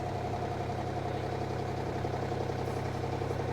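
A John Deere Z997R diesel zero-turn mower with a 60-inch, three-blade deck idles with a steady, even low rumble, close and continuous throughout with no talking.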